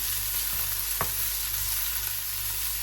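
Curry leaves and fenugreek sizzle in ghee, a steady frying hiss with a single spoon scrape as they are stirred, no voices.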